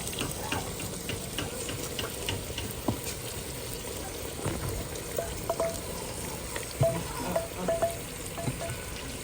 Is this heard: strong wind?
no